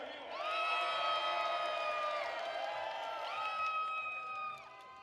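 A festival crowd at Primavera Sound Barcelona cheers and whoops in a sustained wave of shouting with some clapping, heard from moderately far and continuing for several seconds.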